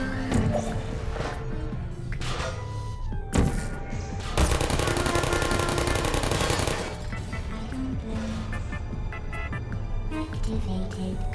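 Portal turrets fire in loud, dense bursts over layered game sound, with a sustained rattling volley in the middle and a sharp crack just before it.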